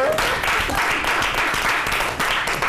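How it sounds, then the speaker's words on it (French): Studio audience of a French-language Ivorian TV show applauding, a continuous close burst of clapping with faint voices mixed underneath. "Maman, on va applaudir le vieux d'abord, s'il vous plaît."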